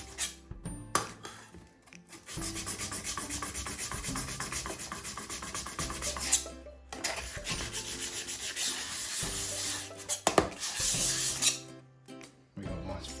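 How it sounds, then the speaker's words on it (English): A bamboo worktop is hand sanded with 1000 grit paper, giving a soft continuous rubbing in long strokes, with short pauses and a few light clinks between passes. "I'm going to do it at 1000 grit. I'll do that by hand"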